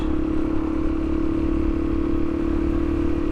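A 2022 Suzuki DRZ400 motorcycle with a jet kit and aftermarket exhaust fitted with its silencer idles up close, a loud steady low thumping engine drone with even mechanical clatter.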